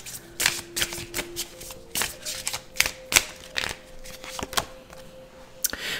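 Charm cards are shuffled close by in quick, uneven bursts of crisp riffling and tapping, with no talking.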